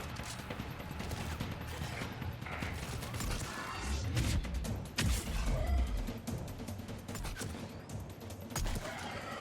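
Rapid bursts of assault rifle fire crackle through a dense firefight in the video game Mass Effect 3, with thuds and clatter mixed in and brief talk underneath.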